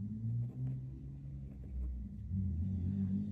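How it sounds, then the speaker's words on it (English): A neighbor's truck idles and revs outside with a low, steady rumble, rising and falling, heard at a distance behind the room. "sorry if you hear my neighbor's truck."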